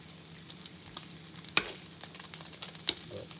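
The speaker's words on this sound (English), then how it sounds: "How that bacon look to you, Tony?" Bacon sizzles gently in a pan, heard as a quiet, steady frying hiss with a couple of sharp clinks from the pan or utensil partway through.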